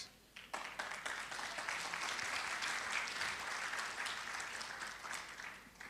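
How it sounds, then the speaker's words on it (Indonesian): A church congregation bursts into applause during a sermon, a dense, sustained wash of many hands clapping that holds steady for several seconds before tapering off. "Tahan dulu tepuk tangannya"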